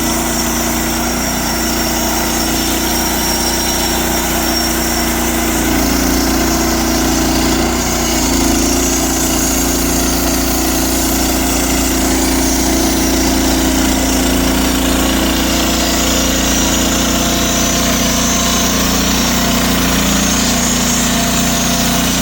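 A sawmill blade cutting a log while its engine runs, giving a loud, continuous droning whine with a steady mechanical rumble and no break for over twenty seconds.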